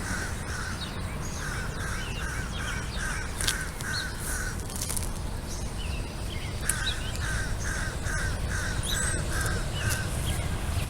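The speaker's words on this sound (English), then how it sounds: "Hey, Crow, keep it down." A crow caws in two long runs of rhythmic, evenly spaced calls from a fruit orchard, clear over a steady outdoor background hiss with no talking.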